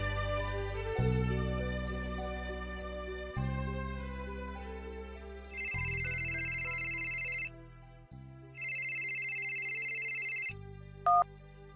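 A mobile phone ringtone sounds for an incoming call in a Tagalog drama, playing as a loud, clear melodic tune in repeating phrases with sustained tones, with no talking.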